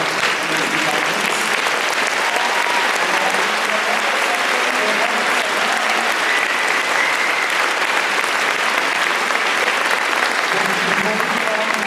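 Sustained applause from the audience at a mayoral debate at City Arts, steady dense clapping that fills the room without letup, with crowd murmur mixed in.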